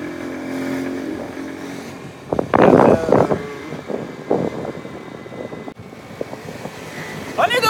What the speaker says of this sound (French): on est donc sur un scooter, sur une piste cyclable